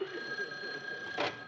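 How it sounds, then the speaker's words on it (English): A telephone bell rings once in a brief burst near the end, on a sitcom set in an indoor room, standing out over a steady background hum. "Joe, that's my phone."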